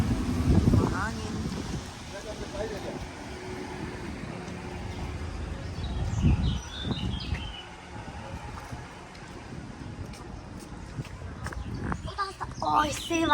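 Wind gusting outdoors in Günzburg, Germany, a steady low rumble buffeting the microphone throughout, with people talking over it and faint birdsong toward the end.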